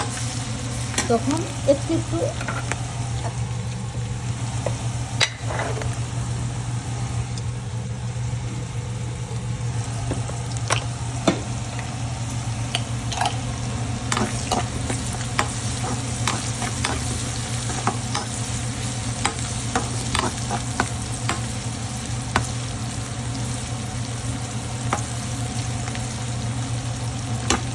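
Onions frying in a pan for a coral fish do-piyaza, cooked until light brown, with a steady sizzle under repeated scraping stir strokes. A short bit of speech and a constant low hum run underneath.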